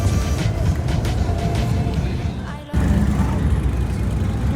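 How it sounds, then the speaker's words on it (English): A big old truck rolls past at a police car show, its loud, steady low engine rumble filling the scene, briefly dipping before surging back up as it passes close by. "And a big old truck."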